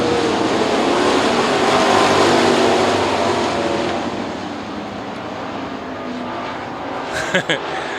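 Sprint cars racing three wide at Lernerville Speedway in Western Pennsylvania, a loud dense roar of engines that fades slightly as the pack moves off, under a commentator's voice.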